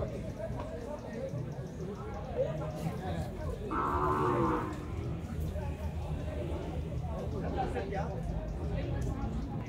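Cattle mooing at a livestock fair in Canafístula de Frei Damião, Alagoas: one clear low moo rises above crowd chatter and nearby voices.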